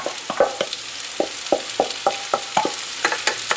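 Vegetable mix hitting leftover sausage fat in a pan, a steady sizzle punctuated by repeated scraping and stirring knocks of a utensil, fairly close and moderately loud, with no talking.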